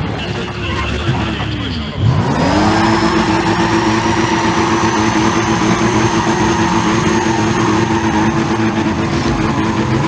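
A weak car's engine roars continuously in the racing game Need For Speed: Pro Street on PS3, dipping briefly then climbing into a loud sustained rev with a steady whine on top.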